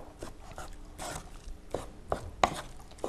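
Cooked Japanese sushi rice is mixed with a slicing motion, giving soft, irregular knocks and taps, close and fairly quiet, several in quick succession with brief pauses.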